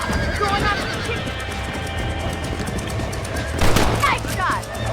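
Gunfire rings out in a Red Dead Redemption ranch fight against coyotes, sharp bursts clustered near the end amid horse whinnies and steady background noise, with voices calling out nearby.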